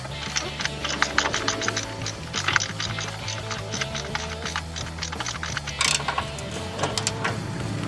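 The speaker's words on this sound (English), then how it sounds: "Fixing to tighten up the bottom bolts here" Bottom bolts on a Cadillac transaxle/motor mount being tightened, giving bursts of rapid metallic ratchet clicking with clanks of tools against metal and a low background hum.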